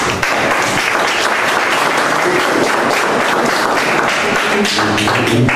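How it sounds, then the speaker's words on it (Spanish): An audience applauds loudly and steadily through the whole stretch, a dense wash of many hands clapping at a talk on autoimmune diseases such as lupus and psoriasis, with no speech over it. "Otro aplauso fuerte."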